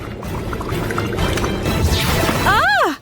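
Water pouring or bubbling in an animated cartoon about elemental college girls, a dense liquid wash under a light voice, ending in a rising and falling swoop as it cuts off.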